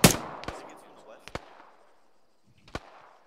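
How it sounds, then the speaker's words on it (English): Enemy gunfire cracks out in three sharp, loud shots spaced about a second apart, each ringing off briefly against a quiet background. "He's shooting at us."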